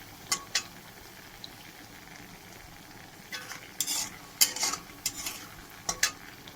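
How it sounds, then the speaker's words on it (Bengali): Lentil dumplings (dal bori) frying in oil, a soft steady sizzle underneath with scattered sharp scraping clicks of a spatula stirring in the pan, clustered more densely toward the end. "লাল লাল করে ভাজবো ডালের বড়িটা।"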